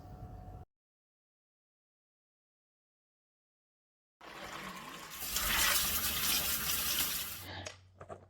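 Soaked beans rinsed under a running tap in a sink, a splashing rush of water that starts after a long silence, builds loud for a few seconds, then cuts off.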